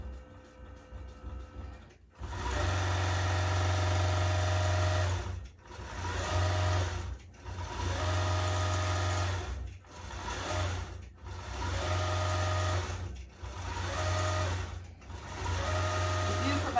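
A quilting machine stitches applique onto soft Minky fabric in loud, steady whirring runs, with about five sustained bursts separated by brief pauses.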